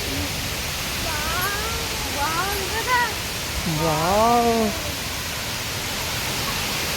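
A large waterfall near a temple roars steadily and evenly, a dense close rush of falling water. A person exclaims over it.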